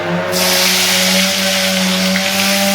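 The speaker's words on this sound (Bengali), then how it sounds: "এইবার এই তেলে দিয়ে দেবো বেগুনটা।" Eggplant goes into hot oil left over from frying fish, setting off a sudden loud, broad hiss of sizzling that stays strong and steady, with a constant tonal hum underneath.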